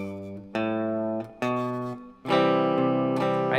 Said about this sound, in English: that's just a nice little walking bass line there